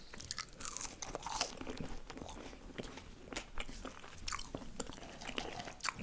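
Close, crisp bites and crunchy chewing of a McDonald's McBlend burger with a generous dose of mayonnaise in Portugal, repeated mouth sounds in a steady rhythm without speech.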